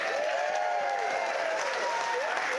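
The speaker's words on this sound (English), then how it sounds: "Round of applause for her." Wedding guests give a round of applause during a speech, steady continuous clapping from a crowd with a few voices audible above it.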